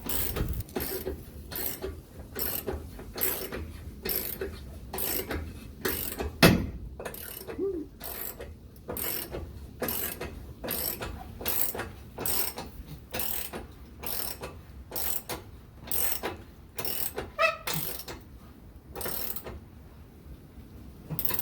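Ratchet wrench snugging rock slider bolts on a 2001 Jeep TJ, a close, rapid series of clicking strokes in regular bursts that repeat steadily throughout, with no talk.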